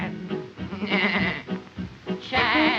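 Singers imitating a nanny goat's bleat in a 1940s film song number, with wavering, quavering vocal bleats set against music, moderately loud and close.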